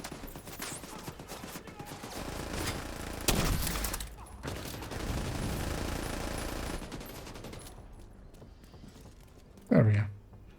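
Automatic turret fire in a video game crackles in bursts through the first seven seconds, with a sharp burst near three seconds and a final loud crack near the end.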